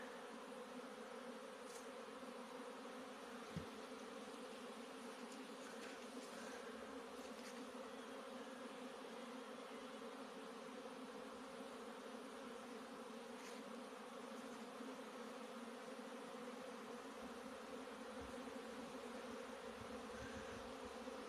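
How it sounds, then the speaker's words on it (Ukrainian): A swarm of bees buzzes steadily and densely in the open air on the first of January, a continuous layered drone with a few individual insects passing close now and then, and no voices. "Небо чорне. Все в бджолах. І це 1 січня."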